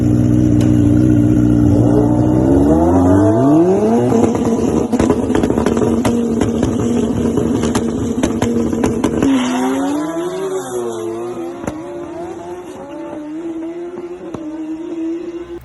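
A drag racing motorcycle making a pass, its engine howling loud and close as it climbs through rising revs, drops at each gear change and climbs again, holding a strong sustained whine to the end.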